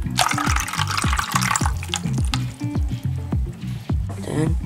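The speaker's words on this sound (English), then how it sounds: "Next, you gotta put some water." Water being poured into a bucket, with close, continuous splashing and gurgling and rising bubbly pops as the bucket fills, without any talking.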